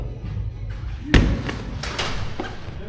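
A sharp mechanical clunk as a Piaggio Medley 150 S scooter's seat latch releases at a button press, followed by a few lighter knocks and rattles of the seat lifting open, close by.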